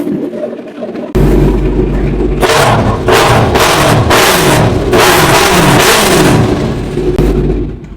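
A loud superbike engine with an aftermarket exhaust revs hard in repeated bursts, a deep rumbling idle between throttle blips, close and aggressive.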